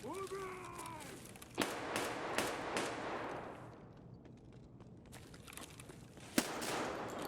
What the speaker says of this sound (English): Couple of shots.